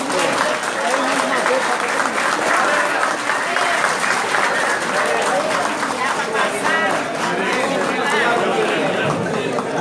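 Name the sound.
audience applause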